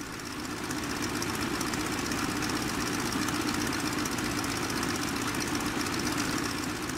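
A SPAD S.XIII biplane's rotary-style engine idling on the ground in the Rise of Flight flight sim while warming up, a steady, loud, rumbling drone with a rough, knocking pulse throughout.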